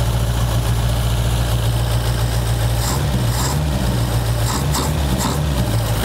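Old 1977 Toyota Hilux six-wheeled mini truck engine idling steadily after sitting abandoned, a loud low rumble with constant throb throughout, no talk over it.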